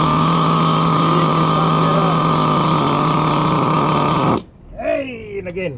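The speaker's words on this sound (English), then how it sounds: "We do need to get a bit of heat into the motor before we can really start tuning it." An HPI Savage X 4.6 nitro RC truck engine runs loud and close at a steady high-pitched buzz for several seconds, then cuts out abruptly, leaving brief rising and falling tones.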